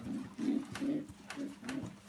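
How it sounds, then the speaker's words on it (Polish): A racing pigeon of the Janssen line coos softly nearby in a rhythmic series of low, throaty, rolling calls, repeated about five times with no talking. "Moje gołębie z Ardenów wywodzą się z, od Brakusa przede wszystkim."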